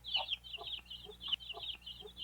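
Chickens cluck in short repeated bursts close to the microphone, with a few quick calls piled on top of each other and a faint low hum underneath.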